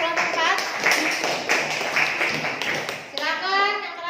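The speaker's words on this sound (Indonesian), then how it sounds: "Tepuk tangan dulu untuk kelompok 4." Classroom audience of students clapping for a presenting group, a brief burst of applause with scattered hand claps and children's voices mixed in, close and moderately loud.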